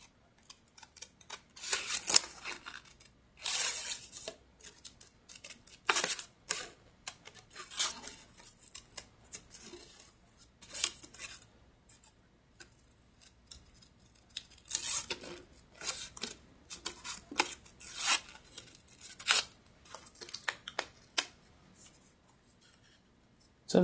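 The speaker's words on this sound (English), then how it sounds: "And then I go back and I cut it a little bit more carefully." Scissors cutting paper for a tunnel book art project, a long run of steady crisp snips and rustling paper, close and clear with no talking.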